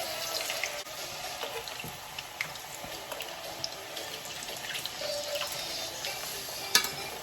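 Potato fries cooking fast in hot oil, a steady moderate sizzle with faint stirring clinks throughout, no talk.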